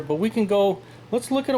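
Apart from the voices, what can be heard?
No everyday noise stands out behind the speech.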